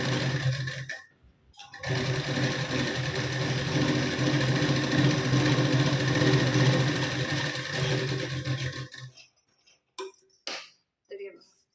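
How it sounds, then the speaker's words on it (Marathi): Sewing machine stitching a folded one-inch strip on blouse sleeves, a close, steady whirring hum running for about seven seconds before stopping, followed by a few brief clicks and a voice speaking. "तिथे मी शिलाई देऊन घेते बघा आता"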